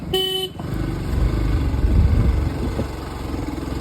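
A short, loud horn honk opens over a motorcycle engine's steady rumble, which keeps running while riding along the road.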